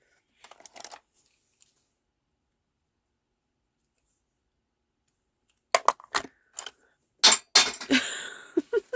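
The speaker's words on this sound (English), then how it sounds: "that's the sound of my bone folder flying across the room" Quiet room, a few faint clicks early, then a burst of sharp clattering knocks as a bone folder bangs and skitters across surfaces nearby.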